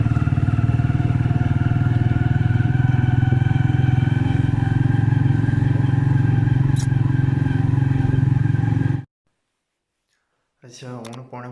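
A motorcycle ridden on a village night security patrol idles steadily and loudly up close for about nine seconds before cutting off abruptly, followed by brief silence and then a short voice.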